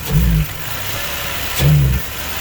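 A car engine bogs down while running, its low rumble swelling into two heavy, labored surges separated by a steadier drone, close and fairly loud, with no talk.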